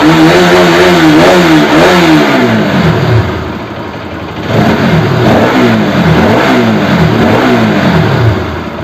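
A Bajaj RS200 motorcycle engine, freshly topped up with coolant, runs close and loud, rising and falling through repeated throttle blips before settling briefly to idle and revving again.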